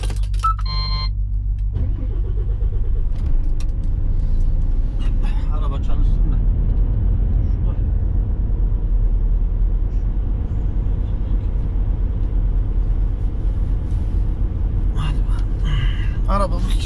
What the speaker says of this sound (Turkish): Arabayı çalıştırayım çalışsın.